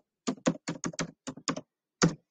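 Keystrokes on a computer keyboard tap out in a short, quiet burst of about nine clicks, evenly paced with a brief pause before the last one, with no talk.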